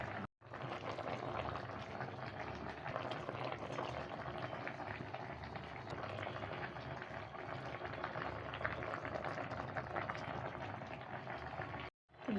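Rohu fish curry with flat beans, potato and tomato simmers in a pan, giving a steady, close bubbling and sizzling that carries on evenly throughout with no talk.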